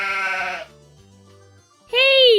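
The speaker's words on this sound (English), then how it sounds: "Hey, sheep, how did you get up there?" A toy sheep from a John Deere Little People farm set gives two loud, close bleats separated by a short, quieter gap with a low murmur.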